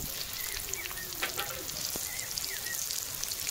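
Onion, green chili, garlic and chopped capsicum sizzle in a pan with a steady, fairly quiet crackling hiss and occasional spoon taps and small pops, no one talking.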